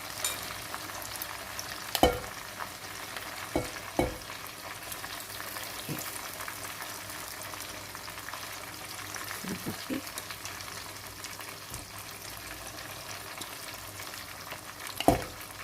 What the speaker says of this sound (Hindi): और इसी में हम बाकी चिकन भी तल लेते हैं